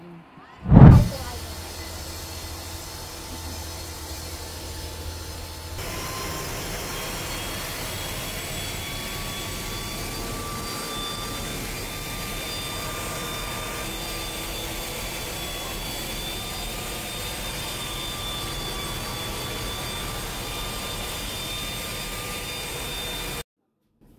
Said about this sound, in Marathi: इतका आवाज येत होता ना एसटीचा की वाटत होता आपण प्लेन मध्ये बसलोय की काय.